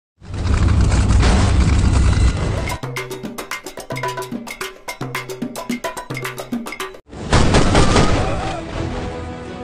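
Gunfire in an action film scene: loud sharp rapid shots in quick bursts, separated by short gaps, set between stretches of dense roaring noise and booms, with no speech.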